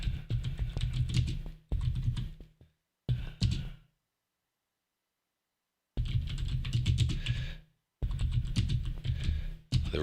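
Someone types on a computer keyboard in close, rapid bursts of clicking, broken by short pauses and a stretch of silence, with no talking.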